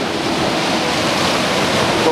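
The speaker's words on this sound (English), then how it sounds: "But what a beautiful little waterfall." A small waterfall pours over mossy, slippery rocks, giving a close, steady broadband rush of water with no breaks throughout.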